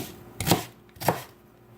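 A knife dices an onion on a board in two crisp, close chopping hits about half a second apart, with a quiet background between them.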